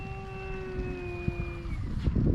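Durafly Excalibur RC plane flying in the rain with its electric motor at full throttle, a steady high whine with clear harmonic tones held for nearly two seconds over wind and rain noise, then fading.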